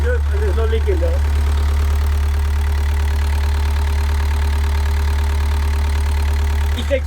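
A sailboat's inboard engine runs steady and close, a deep thrumming idle with a constant low vibration, while a voice briefly speaks over it at the start.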